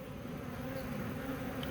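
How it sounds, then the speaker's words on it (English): Honey bees in a fall hive split drone steadily in a close, dense, continuous buzz with no voices over it. "Lots of bees."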